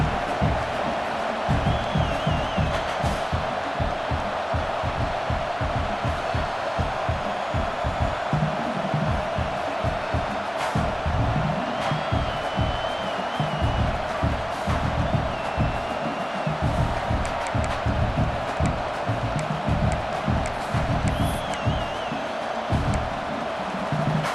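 Stadium crowd noise from EA Sports College Football 26, a steady dense roar of cheering fans in a football stadium holding loud and even throughout, with occasional brief swells and whoops rising out of the wash.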